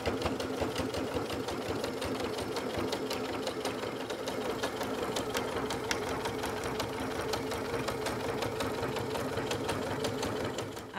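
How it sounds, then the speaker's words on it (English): A sewing machine runs steadily in a triple stitch, top-stitching along the handle join of a fabric shopper bag, a continuous close whirring hum with rapid needle clatter throughout and no talk. "So that was just a triple stitch on the machine there"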